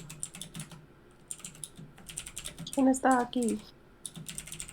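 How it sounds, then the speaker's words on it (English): Keys on a computer keyboard clatter in quick bursts of clicks, broken by short pauses, with a person speaking briefly in the middle. "I was typing"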